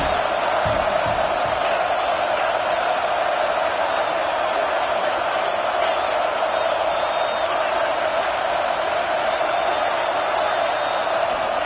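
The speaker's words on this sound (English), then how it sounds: "this crowd coming to life here, trying to help the defense get a stop" A college football stadium crowd roars steadily as fans try to rally the defense, a dense, continuous wash of cheering that holds at a constant level throughout.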